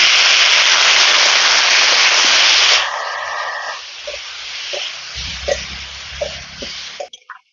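Spiced potatoes for aloo dum, with coriander, chili, Kashmiri chili powder, salt and turmeric, hiss in a pan as a little water goes in; a loud, dense sizzle that drops to softer crackles and scattered pops before fading.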